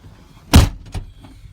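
A door thuds shut with one sharp, loud knock followed by a softer rattle, heard alone and close.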